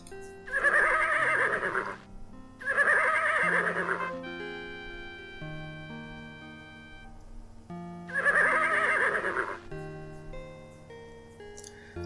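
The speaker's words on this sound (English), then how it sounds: "Little John can deal with the horse, he has a way with the beasts" Three loud horse neighs from the video game Conquests of the Longbow, each a shrill whinny lasting about two seconds, separated by quieter musical tones and faint ticking.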